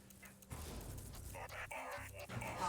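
A squadron of attack dogs in the mobile strategy game C&C Rivals barks and yips in short repeated bursts at moderate level over game effects, with no talking.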